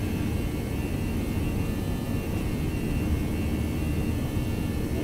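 Airbus A319 jet engines roar at takeoff throttle in the X-Plane 11 flight simulator. The sound is a steady, loud, broadband rush that holds without a break and has no voices over it.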